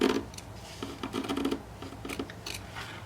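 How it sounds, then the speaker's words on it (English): Scissors trim excess denim from the edge of a jeans pocket purse, a close series of crisp snipping crunches in an irregular rhythm, quiet between cuts. "I'm going to cut the extra off around the edge."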